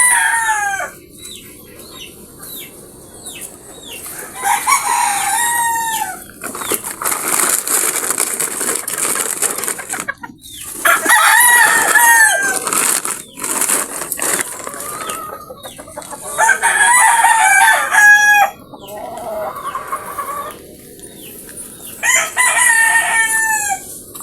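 Pet chickens and roosters crow loudly and cluck around a farmyard, with several roosters calling in turn in long repeated bouts and hens clucking between them, close and vivid.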